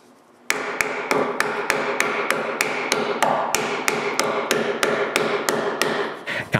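Wooden dowel pieces glued into drilled holes on a homemade wooden bandsaw frame, driven in with a hammer: a steady run of roughly twenty sharp, close taps at an even quick rhythm, with no voices.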